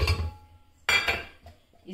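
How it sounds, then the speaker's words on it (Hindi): Cut eggplant pieces dropped into a metal pressure cooker in a home kitchen, giving two clattering bursts of pieces knocking against the pot, separated by a short pause. "ये कुकर में डाल रही हूँ"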